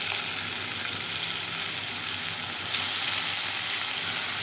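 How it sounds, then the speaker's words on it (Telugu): Cucumber pieces fry in a pan with a pinch of turmeric for a curry, producing a dense, continuous sizzle up close that grows slightly louder partway through, with no voices. "ఇప్పుడు దోసకాయ ముక్కలు వేసేసుకుంటాను ఫ్రెండ్స్"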